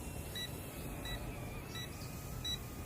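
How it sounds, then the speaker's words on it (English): Short, high electronic beeps repeat at an even pace, four in all, faint over a constant low mechanical hum: the low battery warning of a Potensic A20W drone in flight. "It does beep to let you know when it's time to bring it in"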